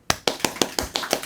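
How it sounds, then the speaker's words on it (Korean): Church congregation clapping in a short, evenly spaced rhythm, about seven crisp, fairly close claps in quick succession with no talk. "박수."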